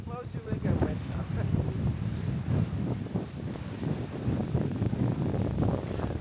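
Strong wind gusts buffet the microphone in Switzerland in a steady, roaring rush, with a voice faintly audible beneath the blowing.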